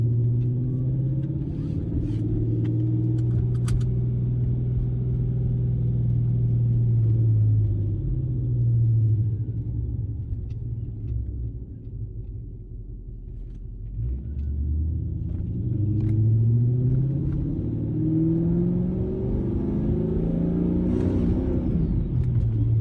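A Mercedes CLS55 AMG's supercharged M113K V8 revs loudly and up close, climbing and falling twice in long sweeps over a deep rumble, with a faint supercharger whine as it rises.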